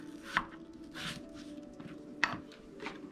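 A knife cuts a cucumber in half on a board, giving two crisp, close chops spaced about two seconds apart with quiet handling sounds between.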